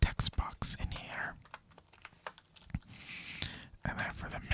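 Quick, soft clicking of a computer keyboard while configuring a Cisco switch in Packet Tracer, close and delicate with uneven bursts of keystrokes and faint whispering mixed in.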